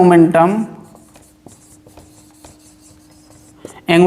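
Chalk or marker strokes on a classroom board during a chemistry lesson on quantum numbers: a series of faint taps and scratches in a quiet gap, with a teacher talking at the start and end.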